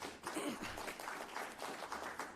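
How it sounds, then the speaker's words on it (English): Steady applause from a crowd, hands clapping continuously at moderate volume, sounding somewhat distant with faint voices mixed underneath. "you can give him a round of applause"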